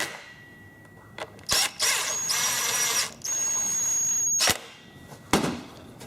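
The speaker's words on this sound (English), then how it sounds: "Put your 2 screws in." A power driver whirs in short bursts while screws go into the brake cover of a Stihl chainsaw, several distinct runs of motor whine mixed with clicks and handling noises, close and moderately loud.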